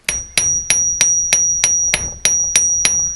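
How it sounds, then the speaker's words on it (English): A diamond-plate texture hammer strikes metal on a bench block about ten times at an even pace, each blow sharp and ringing with a bright metallic tone, close and loud. "So I've got a texture hammer here with kind of a cool diamond plate."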